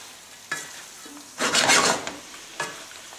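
Gnocchi being stirred with nuts and asparagus in a pan over medium heat: a few brief scraping, sizzling stirs, with one longer burst in the middle and quiet pauses between them, no talk.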